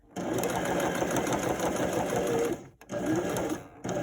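A sewing machine stitches elastic onto a fabric surgical scrub cap, running in a steady close whir for about two and a half seconds, pausing briefly, then buzzing again, with no voices.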